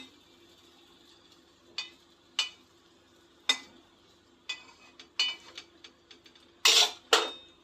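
Small dollops of taal (palm fruit) batter drop into hot oil on a medium gas flame, each landing in a sharp sizzling burst that fades, arriving irregularly with a few utensil clinks, the last bursts loudest.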